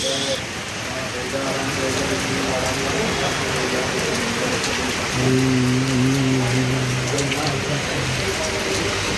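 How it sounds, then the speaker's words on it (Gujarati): Dense, hissing downpour drums continuously at close range, with a voice speaking over it and a low hum joining midway. "ફૂલ વરસાદ ચાલુ છે"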